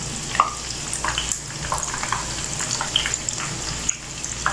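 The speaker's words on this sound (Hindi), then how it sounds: "हमारे डोनट्स तकरीबन फ्राई हो चुके।" Potato donuts frying in hot oil, a steady close sizzle with scattered small pops and crackles running throughout, no voices.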